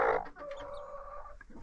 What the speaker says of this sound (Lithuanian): Va, mano vištos.